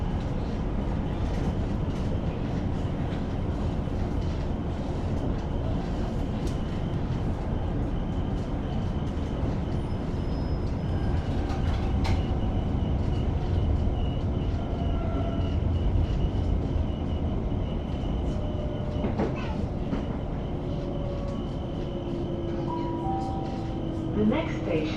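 A London Overground Windrush line train runs between Whitechapel and Crystal Palace, a steady loud interior rumble with occasional track clicks and faint squeals, and a voice talking over it.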